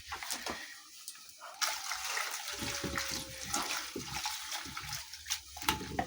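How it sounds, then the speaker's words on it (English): Water poured into a sufuria outdoors in a village setting, a steady close gush running for several seconds with small splashes and a brief sharper burst near the start. "Pouring myself some water out for easy work."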